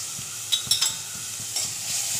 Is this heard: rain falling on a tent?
no